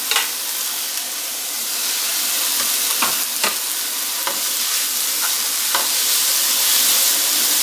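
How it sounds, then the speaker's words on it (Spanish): Shrimp and noodles stir-frying in a hot pan give a steady close sizzle, broken by several sharp scraping and tossing clatters from the utensil. "ahora le vamos a incorporar los camarones para que tenga unos segunditos más de cocción aquí"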